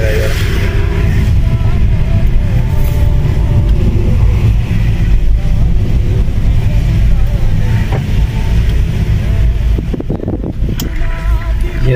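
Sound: traffic jam in the rain, Riffa Street, Bahrain

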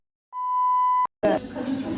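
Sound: electronic beep

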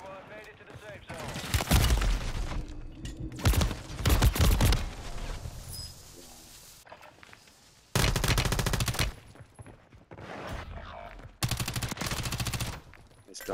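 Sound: gun spraying gunfire in a video game

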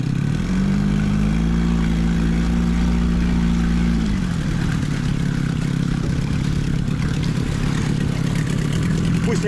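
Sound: boat motor idling while warming up

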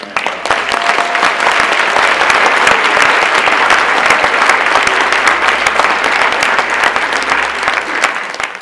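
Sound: audience applause for Graham Hancock

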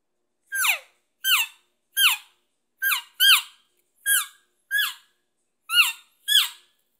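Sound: elk calf call imitated on a call

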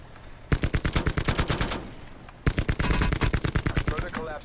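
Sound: gunfire in Call of Duty Black Ops 4 Blackout video game

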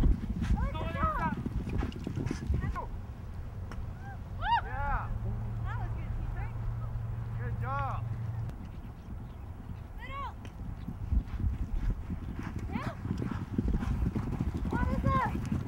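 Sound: polo horses hooves clip-clopping

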